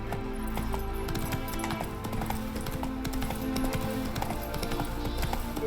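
In the video game The Witcher 3, a horse's hooves clip-clop in a brisk, regular patter of sharp taps, close and steady throughout over a low ambient bed.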